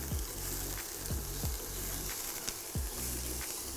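Garlic and red pepper hit a pan of browned onions with a steady, close sizzle, broken by a few sharp spits and crackles.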